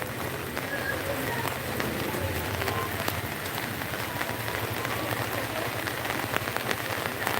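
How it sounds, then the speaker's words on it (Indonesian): Steady rain pours outdoors at a live performance site in Montong, Narmada, a constant dense hiss spattering on surfaces with no letup, close and fairly loud. "di sini hujan ini"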